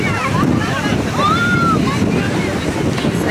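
Sea surf churns under strong wind on a Greek coast, a loud, constant wash and rush with gusts buffeting the microphone and faint higher tones over it.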